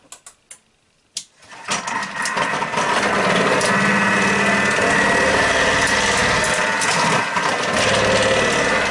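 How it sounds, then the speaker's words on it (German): A Thermomix TM5 or TM6 whirs at high speed thinly slicing quartered onions, starting with a few short clicks and bursts before a steady loud motor drone. "die 2 Zwiebeln habe ich geviertelt oder halbiert und werde ich jetzt auf dünn schneiden"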